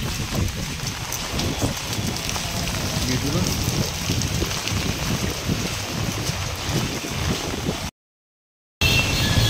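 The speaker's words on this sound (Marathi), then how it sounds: "थोडं ॲडजस्ट करा, पाऊस आहे." Steady rain falls in a street near Dagdi Chawl in Mumbai, a continuous patter and hiss heard up close for about eight seconds before a sudden cut to silence, then resuming briefly.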